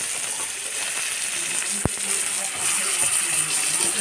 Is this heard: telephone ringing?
no